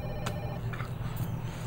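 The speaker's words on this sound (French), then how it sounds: "Attends, portable sonne." A mobile phone rings indoors during a Beninese TV drama scene, a short electronic ringtone chirping clearly over a low background hum.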